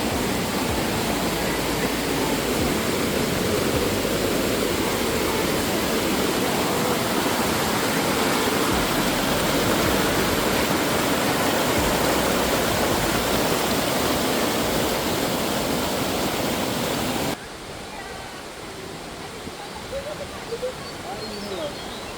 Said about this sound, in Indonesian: Dan inilah air terjun yang menjadi ikon utama selain jembatan gantung terpanjang se-Asia Tenggara, yaitu Curug Kembar Lembah Purba